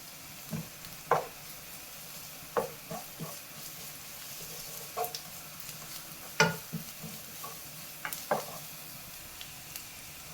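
Onion with ginger garlic paste sautés in a pan under a faint, steady sizzle, broken by sharp, scattered scrapes and clinks of a stirring spoon, close and quiet, with no talking.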